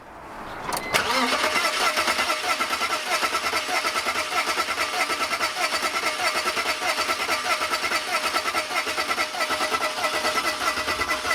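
A BMW E46 engine cranks steadily on the starter during a compression test on its problem cylinder, a rapid rhythmic churning that kicks in after a second and continues loud and close for about ten seconds.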